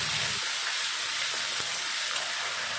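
Onion paste sizzles in hot oil in a wok with bay leaf and cumin while crab is being cooked, giving a steady loud frying hiss with a few brief pops and no talk.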